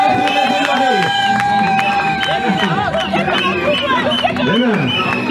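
Guests at a customary wedding cheer and acclaim the couple. The loud, continuous crowd noise mixes chatter and shouts with sustained, tuneful voices throughout, and voices keep talking across it.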